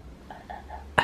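A single sharp cough bursts out near the end, loud and close, after a few soft murmuring sounds.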